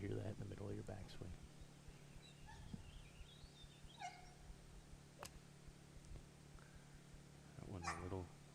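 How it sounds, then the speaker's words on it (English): A dog on a golf tee during a golf tournament lets out a few faint yips and whimpers at intervals over a low steady hum, with a short louder burst near the end. "We've got a dog up here on the tee with us."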